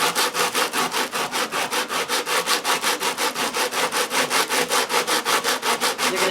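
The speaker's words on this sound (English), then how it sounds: "I'm going to take my sandpaper and go for it." Sandpaper is rubbed by hand over a mixed media piece coated with texture paste, black gesso and ink, making a close, steady back-and-forth scratching in an even rhythm.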